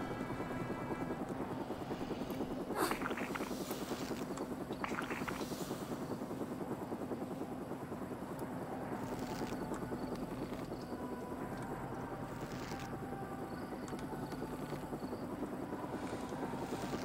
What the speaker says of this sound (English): Know what I hear? Helicopters.